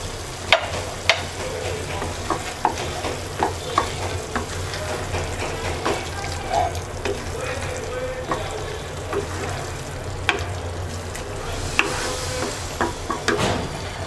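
Red and green capsicum sizzling in a pan while being stirred, with repeated sharp scrapes and clacks of a spatula over a constant frying hiss, close and fairly loud.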